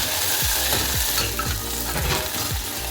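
Onions fry in hot oil in a pan for dal tadka, a steady loud sizzle with repeated scraping stirs of a spoon roughly every half second, close by and with no talking.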